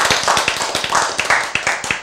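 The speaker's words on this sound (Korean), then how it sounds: "박수." A church congregation claps together in response to a preacher's call, a dense run of sharp hand claps at steady, close range with no voices over them.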